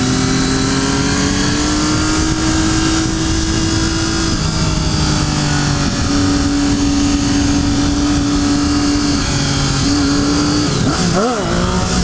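A KTM RC390 motorcycle is ridden hard, chased by a Triumph Daytona 675, its engine note rising and falling steadily through gear changes, loud and close over constant wind rush.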